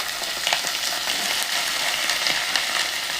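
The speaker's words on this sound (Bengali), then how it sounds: "এই তেলটায় আমি ফুলকপি আলু একসঙ্গেই ভাজবো" Cauliflower and potatoes fry together in a little oil, giving a steady, close sizzling crackle with small pops throughout and no talking.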